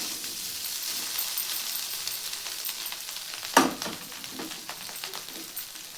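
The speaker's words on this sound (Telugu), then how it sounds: "బాస్మతి రైస్ని అందులో వేసుకున్నాం సరేనా" Basmati rice fries and is stirred in a pan with cumin for jeera rice, giving a soft continuous sizzle with light scraping and one sharp metallic clank midway.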